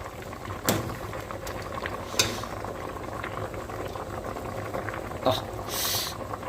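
A pot of odiyal (palmyra tuber) simmers at a steady boil for Jaffna-style odiyal kool, with a continuous bubbling wash and a few sharp utensil knocks against the vessel, up close and without speech.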